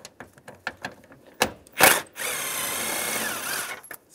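A hand ratchet fitted with a 10 millimeter socket clicks in quick bursts as it loosens a bolt behind the parking brake lever of a 2007-2013 Chevrolet Silverado, close and loud, followed by a longer steady run of ratcheting.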